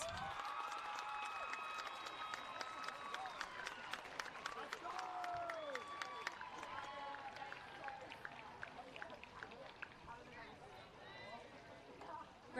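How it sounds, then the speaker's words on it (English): Crowd at a Victorian country long-course swimming championship finals cheering and applauding continuously, with whistles and shouts rising over dense clapping, fairly loud and steady throughout, with an announcer's voice in the mix. "Great cheering"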